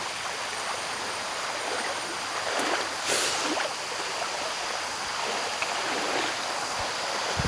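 Rushing stream water flowing steadily near a waterfall in the Tapah, Perak forest, a constant close broadband wash with slight surges.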